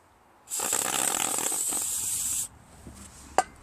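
A single continuous aerosol spray of brake parts cleaner onto a towel hisses loudly for about two seconds, then stops, followed by a faint handling noise and a sharp click.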